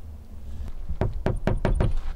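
Knuckles rap on the door of a hillside house, a close run of about six firm knocks in uneven rhythm that starts softly and then grows louder.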